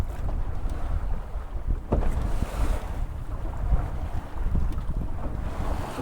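Steady north wind buffets the microphone with low rumbling gusts, over a background of water and boat noise, with no voices.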